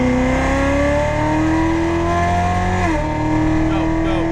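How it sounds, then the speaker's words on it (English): A Corvette Z06 Stingray accelerates at full throttle on a racetrack, its engine note climbing steadily in pitch, dipping briefly at a gear change near the end, then rising again, loud and close under an instructor's voice. "Start accelerating right here. Start rolling throttle. More throttle."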